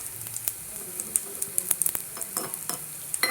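Paniyaram batter sizzling in a frying pan, a steady close crackle and spitting broken by light metallic scrapes of a utensil, with no voices.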